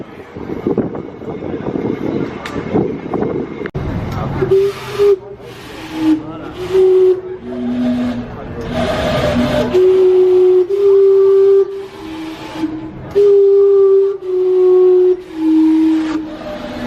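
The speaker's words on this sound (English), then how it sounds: "Everyone's taking pictures of the clock because it runs on steam" Steam-powered clock in Vancouver blowing its whistles: a run of loud, sustained tonal whistle notes that shift in pitch one after another, following a stretch of hissing steam, with street ambience around them.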